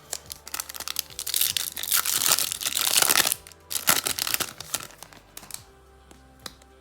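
Garbage Pail Kids Chrome 4 blaster packs are torn open by hand, with loud foil crinkling and ripping in close bursts, then softer rustling and card handling, with no talking.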